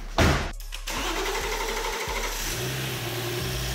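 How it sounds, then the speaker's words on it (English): A BMW car with an N55 engine, just back together after a valve cover gasket repair, cranks briefly with a loud burst and then catches into a steady, close idle that holds with small dips. "Let's plug back in the battery and turn it over."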